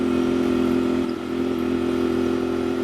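A Royal Enfield Bear 650 motorcycle with a shotgun-style exhaust pipe cruises along at steady speed, its engine droning loud and constant with wind rush, dipping briefly about midway.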